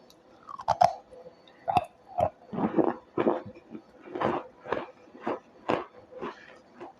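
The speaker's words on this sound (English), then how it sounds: "Good crunch." Crisp crunching of baked cornstarch being chewed, a steady series of about a dozen close, distinct bites and crunches with short pauses between, no talking.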